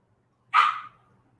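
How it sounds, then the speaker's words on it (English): A single sharp bark from Dolly, a dog somewhere in the background, one brief burst that fades quickly into a quiet room. "The dog you hear barking in the background is Dolly"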